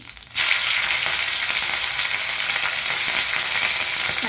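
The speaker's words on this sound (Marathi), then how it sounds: "मोहरी घालायची मोहरी अशी ताडताड होऊ द्यायची आणि त्यामध्ये थोडेसे जिरे ही कट करून घेतलेली मिरची" Mustard seeds, cumin and cut green chilli tempering in hot oil, a loud, steady sizzle with fine crackling and popping that bursts in suddenly and continues without pause.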